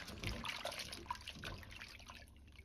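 Fresh oyster mushrooms being rinsed and swished in a basin of lightly salted water, close splashing and trickling with dripping as pieces are lifted out, no voices.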